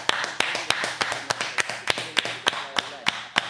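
Sharp single claps at a steady rhythm, about four per second, close and fairly loud over a faint background during a Limon FC versus Porcinos FC quarter-final match.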